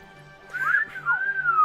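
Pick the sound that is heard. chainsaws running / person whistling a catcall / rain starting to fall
person whistling a catcall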